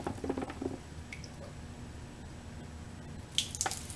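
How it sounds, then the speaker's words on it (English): Coolant dripping from a Ducati 1098 superbike engine during a coolant change in a small garage, a few quiet drips and splashes into liquid, faint and sparse in a hushed room. "I heard it dripping out on the other side"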